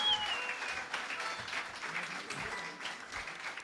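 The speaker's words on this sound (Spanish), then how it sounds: "Un fuerte aplauso para ellos, por favor" An audience at a university gathering of tunas and estudiantinas gives a warm round of applause for a visiting tuna group, brisk many-handed clapping that stays fairly even and moderately quiet for a few seconds.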